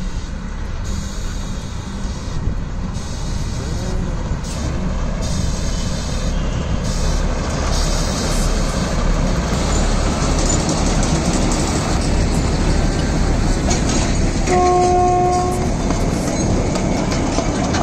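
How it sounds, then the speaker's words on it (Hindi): Matheran toy train on the narrow-gauge hill railway rolling past nearby, a steady rumbling clatter of wheels on track lasting throughout, with a brief horn-like tone near the end and no talking. "Look at that mini train."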